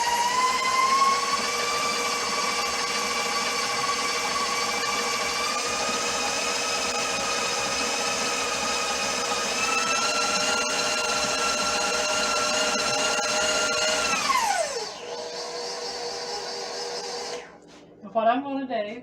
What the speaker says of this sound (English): you want to mix this together until it's well blended